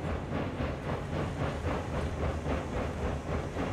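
Steady rhythmic chugging of a locomotive pulling a heavy coal and iron train uphill in the RAILROADS Online game, a dense, continuous pulsing rumble with hiss throughout and no talk.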